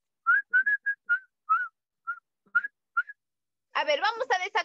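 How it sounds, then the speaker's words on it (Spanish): A group of young children whistle in short, separate bursts, thin and airy, a few together and then several overlapping in a wavering cluster at the end. "vamos a silbar."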